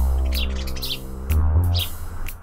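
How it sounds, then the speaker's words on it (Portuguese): A cartoon parrot chirps in quick bright bursts, several short tweets in two clusters, heard close over a loud low sustained musical drone. "E o papagaio dela é muito legal."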